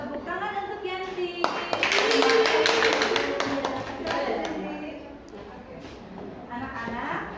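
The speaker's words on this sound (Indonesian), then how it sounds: "Tepuk tangan untuk Yanti." Schoolchildren in a classroom clap together for a classmate, a burst of quick claps rising in the middle and fading, with an adult voice talking around them.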